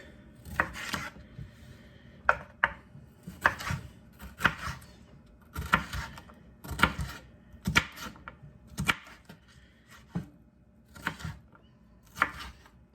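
A kitchen knife dices red peppers on a cutting board, sharp irregular chops knocking close and loud, in quick bursts with short pauses, no talk.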